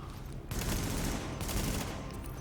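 Dense automatic fire from an M4 rifle in The Division video game: loud, continuous bursts of shots across the whole stretch, briefly letting up near the middle, with no talk.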